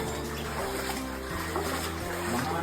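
Shallow water sloshes and trickles underfoot in a dark cave passage near Nandyala, a low, faint splashing that continues with the steps while voices murmur nearby.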